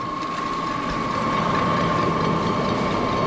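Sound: electric motor grinding soybean cake feed mix for piglets

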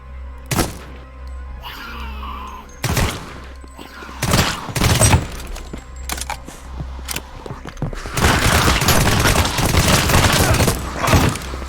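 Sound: gunfire shooting zombies in video game Deathly Stillness

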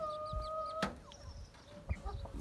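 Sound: chickens clucking

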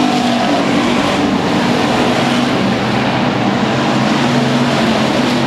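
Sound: street stock race cars racing at speedway

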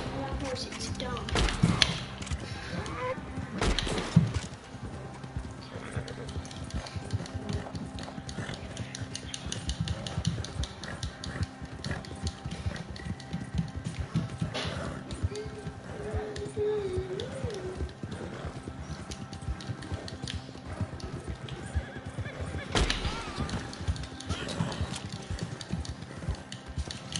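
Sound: horse in the video game Red Dead Redemption

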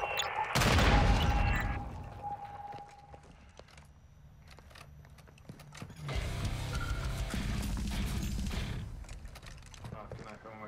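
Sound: enemy gunfire in Call of Duty Warzone 2.0 video game

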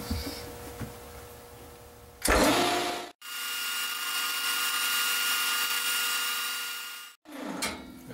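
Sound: lathe cutting a part

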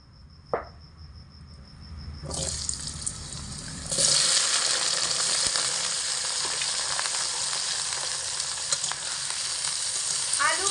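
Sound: diced potatoes frying in hot mustard oil in a wok

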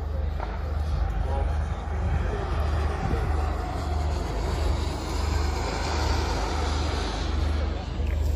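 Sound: model jet aircraft engines running

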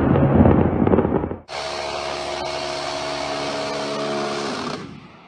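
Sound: C-RAM air defense gun rapid firing

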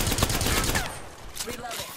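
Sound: gunfire from a video game

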